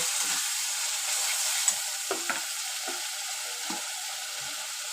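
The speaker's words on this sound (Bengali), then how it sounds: "মুগ ডালটা ধুয়ে ওই ডালের মশলার মধ্যেই দিয়ে দেবো, একটু মশলার সাথে কষিয়ে নেব।" Moong dal sizzles and fries in an Indian dal spice mix for khichdi, a steady bright hiss with a few soft scraping stirs of the spoon, no voices.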